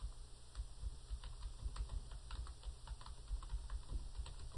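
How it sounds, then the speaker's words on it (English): Soft, quick keystrokes on a computer keyboard in short, uneven runs, fairly faint over a steady electrical hum and hiss. "So there's a little bit of typing."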